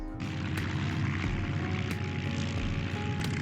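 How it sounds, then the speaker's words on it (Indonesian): Propeller aircraft engines of a WWII Luftwaffe squadron drone steadily as they warm up before takeoff, a loud continuous roar with faint periodic thumps and no voices. "dengan skuadronnya memanasi mesin dan bersiap lepas landas"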